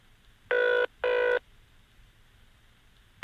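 An old-style telephone rings at midnight in the horror video game The Room, giving two short electronic bursts of ringing, a pause, and the start of a third, loud and clear over a quiet background.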